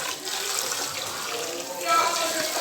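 Running water from a tap while rice is washed in a home kitchen, a steady hiss and splash that swells slightly near the end, with voices talking alongside.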